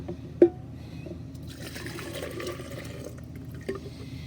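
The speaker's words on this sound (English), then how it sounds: "now we're going to take our steeped warm tea and pour it into" Steeped warm tea poured into a pitcher for sweet tea, a soft steady liquid trickle and fill lasting several seconds, with a couple of brief knocks near the start and end and no talking.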